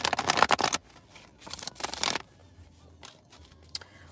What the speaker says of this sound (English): That shuffle was ugly. So let me shuffle again.